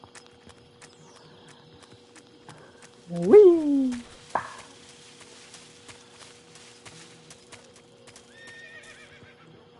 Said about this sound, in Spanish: You just heard a horse?